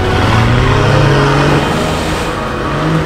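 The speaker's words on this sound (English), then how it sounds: "From the epic four-wheel driving." 4WD vehicle on Fraser Island with its engine revving loud and close, a steady, throaty drone rising and easing over a few seconds, no talk.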